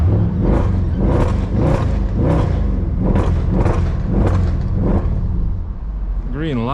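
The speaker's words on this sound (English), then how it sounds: "Now we must rev." A 2009 Mercedes C63 AMG W204 with a P30 exhaust revs repeatedly at night in steady surges, loud and close, with a rough exhaust note rising and falling about once per second.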